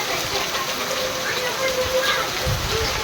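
Steady, dense rain pours down, a continuous broadband hiss of water with occasional louder splashes close by.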